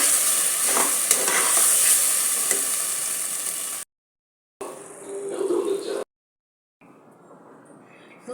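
Ground gravy paste is stirred into potato kurma in a pan on a low flame, giving a loud scraping, sizzling stir that runs for several seconds, then shorter bursts broken by silent gaps.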